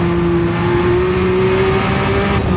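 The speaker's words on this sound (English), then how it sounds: "Second gear here, up to third, heading to pit puff." A 1983 Porsche 956 race car engine screams loudly at high revs on the Nürburgring, a steady sustained tone climbing slightly in pitch as it pulls through second and third gear.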